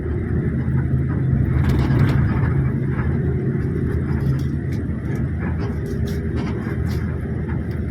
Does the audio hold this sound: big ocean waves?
no